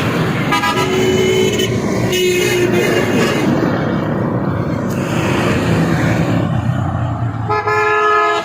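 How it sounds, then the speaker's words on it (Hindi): Busy street traffic during Eid shopping, with car horns honking again and again, some in long blasts, over a loud, constant rumble of engines close by. "काफी ज्यादा सारी गाड़ियाँ हैं"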